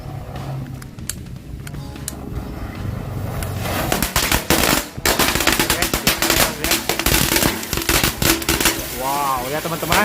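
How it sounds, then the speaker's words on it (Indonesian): Two packs of spinning firecrackers go off together inside an aquarium, building from quieter crackles into a dense, loud run of rapid pops and bangs that fills the second half. "mercon gangsing 2 pak sekaligus. Eksperimenkan, masukkan ke dalam akuarium."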